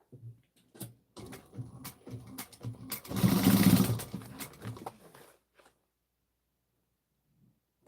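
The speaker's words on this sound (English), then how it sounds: "I'm going to start sewing at 1/4 of an inch again" A sewing machine stitching leather at a quarter-inch seam: a rapid mechanical chatter starting and stopping in short bursts, then a louder sustained run of stitching for about two seconds before it stops, leaving near silence.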